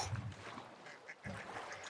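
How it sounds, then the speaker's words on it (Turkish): A duck in the video game The Forest gives a few quiet quacks, one burst near the start and another partway through, low in level against faint background noise with no talking. "Ördek."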